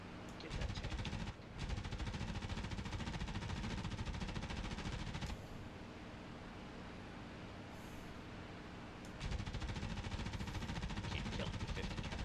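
Heavy .50 cal machine gun fire at a tank in the DCS flight simulator, a dense, continuous roar of rapid fire running nearly the whole time with brief breaks, loud and close.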